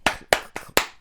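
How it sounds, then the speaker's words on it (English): Four sharp, hollow slaps of a palm against a forehead land in a quick, even rhythm, close up and with no talking. "forehead clapping"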